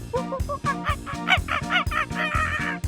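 A rooster crows in choppy, repeated squawks over a steady thumping musical beat.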